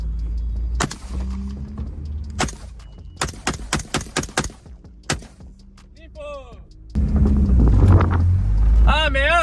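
Gunshots ring out during shooting from a vehicle at a large shooting range complex, a burst of sharp, loud, evenly spaced reports over a low engine rumble, with voices talking in between.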